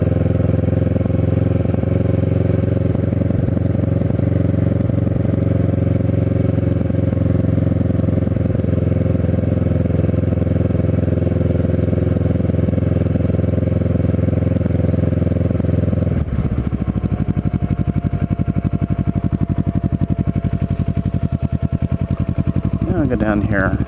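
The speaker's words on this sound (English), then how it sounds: "I thought I just wanted to ride around Cape May" A Kawasaki Ninja 650R motorcycle rides around Cape May Point, its engine droning steadily with strong wind rush throughout, and the pitch shifts partway through as the rider changes speed.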